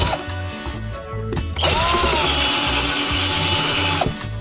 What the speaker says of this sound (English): So both of them we need to drill out so that you can actually get air through there, through the whole conch to make the sound.